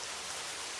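Steady rain falls as a dense, even hiss of drops, soft and continuous throughout with no voices or other sounds.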